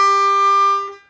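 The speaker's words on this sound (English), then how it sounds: "So if you try to go from hole one blow to hole two draw, it sounds like this." Ten-hole harmonica note sliding from hole one blow to hole two draw, a single sustained reedy tone held steadily about a second before fading out, close and alone.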